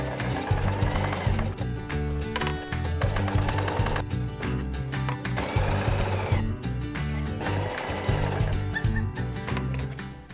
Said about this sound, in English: Then we'll try to sew this patch onto this.